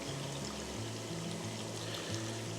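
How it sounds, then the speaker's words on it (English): Water pours and streams steadily over a granite curling stone being flushed off in a Colchester machine after the Milano Cortina 2026 Olympics, a continuous wet rush with a low mechanical hum underneath. "he'll then put it into the Colchester and he'll start to flush it off."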